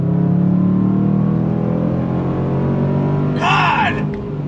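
A 2022 Range Rover Sport SVR Bespoke Edition accelerates hard, its engine roaring loud and steady from inside the cabin with rising harmonic drone, then a brief sharp whooshing rise near the end.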